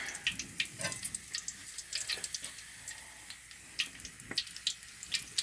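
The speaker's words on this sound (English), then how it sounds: "you're going to want to fry them until they're golden brown" Scones fry in hot oil with a steady bright sizzle, crackles and pops flickering irregularly throughout, close and alone.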